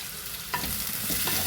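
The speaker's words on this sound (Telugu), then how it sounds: "ఉప్పు వేస్తే తొందరగా ఉల్లిపాయలు వేగుతాయి అన్నమాట" Onions frying in a pan after a teaspoon of salt is added by hand, giving a steady close sizzle with stirring scrapes and a couple of brief clinks, no voices.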